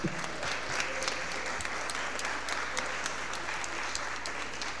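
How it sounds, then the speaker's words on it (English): Attendees at a St. Louis Board of Aldermen meeting give a round of applause, steady mid-distance clapping from a roomful of people that continues evenly throughout, with faint murmurs underneath. "can you give them another round of applause?"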